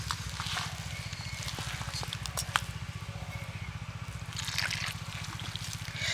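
Lukewarm water trickles little by little into rice-flour batter for poa pitha with date-palm jaggery while it is mixed, giving a soft, continuous dribble over a steady low rhythmic pulsing, close and quiet, with no talk.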